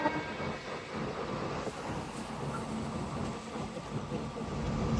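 A goods train rolls past nearby, producing a continuous broad rumble and rattle that holds steady throughout and swells slightly toward the end.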